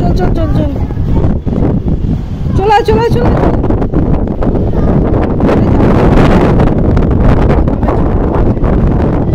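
Kalbaishakhi storm wind in Bengal with rain, roaring and buffeting loudly against the microphone while leaves rustle nearby, and a person talks briefly over the gusts.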